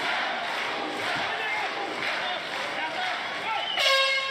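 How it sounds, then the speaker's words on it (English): Local fans at a kickboxing fight in a cage roar in a continuous, rising crowd din, with a brief horn-like blare near the end. "you can hear how local fans are cheering up for Илья Фреймонов."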